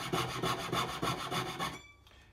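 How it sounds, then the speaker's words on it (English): Fine-toothed saw blade cuts a notch into a wooden jeweller's bench pin, giving a quick, even run of close rasping strokes for under two seconds before stopping. "I'm going to just line up my saw blade."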